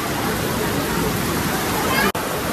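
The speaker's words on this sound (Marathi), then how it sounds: "बघा पाऊस पण भरपूर जोरात पडते बाहेर" Heavy rain pours down in a constant loud hiss and roar, unbroken except for one brief dropout near the end.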